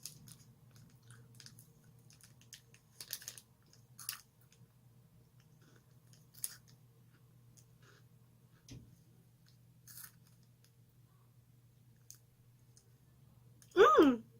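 Faint, scattered crunching and clicking as a berry chocolate Japanese KitKat wafer is chewed close to the mic, ending in a louder burst of sound.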